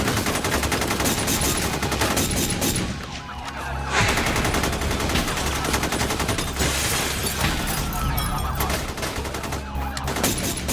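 Rapid gunfire in a western shootout, dense volleys of shots crackling almost without pause, loud and close, with a brief lull before the firing resumes.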